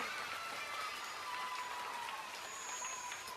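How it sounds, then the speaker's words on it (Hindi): Steady applause from a group at a primary school Independence Day event, a dense, even patter of clapping heard at a moderate distance. "तालियां बजाओ सर।"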